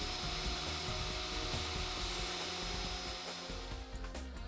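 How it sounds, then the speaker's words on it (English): A loud, continuous core drill drone grinds on without pause while boring anchor holes for a pool lift, a steady motor whine with a rough, abrasive edge. "Core drill at all 4 holes."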